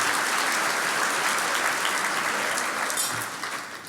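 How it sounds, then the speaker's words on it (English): An audience applauds the alumni at a medical school Match Day ceremony, a steady dense wash of clapping that fills the whole stretch and eases slightly at the end. "we would love to give them a round of applause also, our alumni."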